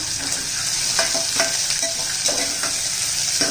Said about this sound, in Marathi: परतून घ्यायचा, मऊ होईपर्यंत परतायचा आहे।